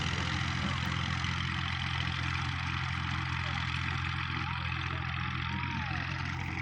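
Tractor engines drone steadily and low as two tractors plough and level a wet field after a flood of the Ravi river, a constant rumble that holds without change and carries no talk.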